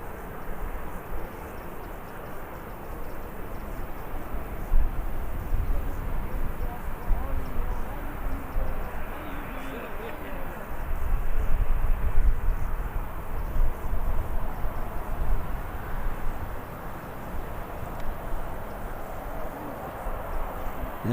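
An airliner at Birmingham airport taxis toward the terminal, giving a steady, broad jet rumble and hiss that swells slightly midway, with someone talking over it throughout.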